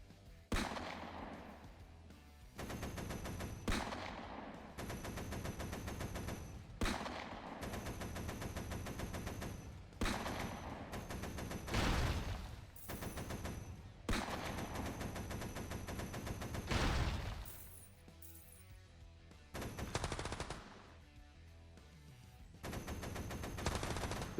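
Rapid automatic gunfire from the Jackal Shooter: Army Tank video game, long loud bursts broken by short gaps, harsh and close with booming low end, and no talking over it.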